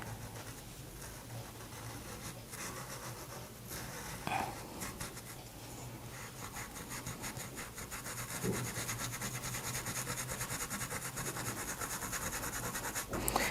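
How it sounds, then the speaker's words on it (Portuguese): A brush rubs and smudges paint around a painted wall in steady, scratchy strokes that grow busier and more continuous toward the end, close and fairly quiet, with no voices. "dá uma esfumaçadinha em volta de toda a parede"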